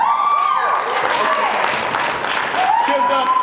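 An audience at a university poetry slam final keeps applauding, a dense continuous roar of clapping with some cheering and whistles rising through it, loud and close.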